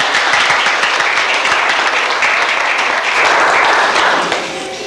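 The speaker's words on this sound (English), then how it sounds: "So we all give them a round of applause." Audience applause for an honorary host couple at an evening event, dense steady clapping close and loud for nearly five seconds, tapering slightly at the end.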